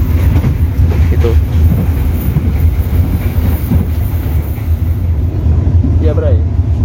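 Steady low rumble of a modified K1 passenger carriage on the Singasari train rolling along the rails toward a station, continuous and loud throughout with faint wheel squeals, heard from inside the coach.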